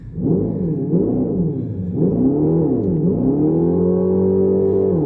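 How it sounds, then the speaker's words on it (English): A 2025 Dodge Charger Daytona Scat Pack, an all-wheel-drive electric car, revs its synthetic engine sound for about five seconds. The loud, close droning tone rises and falls in several swells, then climbs and holds steady, with no talking. "You can rev it up and it does make noise."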